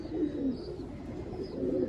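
A pigeon coos steadily in low, throaty murmurs, close by and continuous, with a soft background hiss and no talking.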